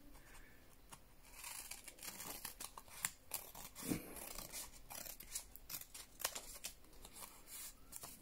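Scissors cutting paper around a stencil to make a tag, quiet close-up snipping with crisp repeated cuts and soft paper rustle throughout.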